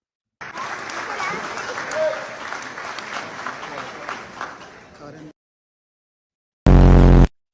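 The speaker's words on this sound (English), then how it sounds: "I want you to listen to the difference in the claps" Applause at a graduation ceremony rolls steadily from a large crowd for about five seconds, dense and even, then cuts off abruptly; after a pause a short, loud, harsh burst of noise follows.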